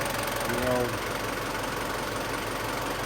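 A Kohler CH730 25hp engine runs after a stator replacement, a steady mid-pitched drone with a slight throb, while a voice talks briefly near the start.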